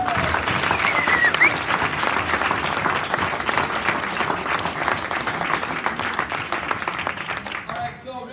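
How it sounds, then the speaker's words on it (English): Sustained audience applause at a high school wrestling banquet, with dense clapping from many hands lasting several seconds before it thins out and a speaker's voice starts at the end. "So please give Tyler another round of applause as well as your"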